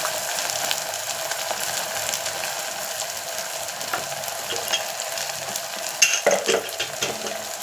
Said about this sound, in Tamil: எண்ணெய் சூடாகிடுச்சு. வெங்காயம் போட்டுக்கிறேன். அடுத்தது கருவேப்பிலை போட்டுக்கிறேன்.